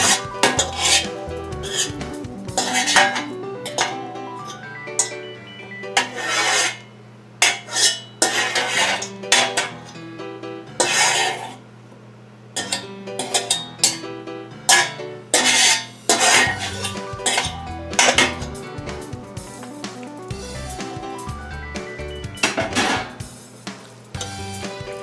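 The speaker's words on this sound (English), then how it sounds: "Oh, I hate the sound of metal on metal." Metal utensil scraping and clanking against a metal crock pot insert while moving pork barbacoa, with repeated close, harsh scrapes and clinks in irregular bursts throughout.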